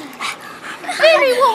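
Dog whimpering and yipping close by in a tense moment after trying to bite, loud high whines and short yelps with a person talking over it.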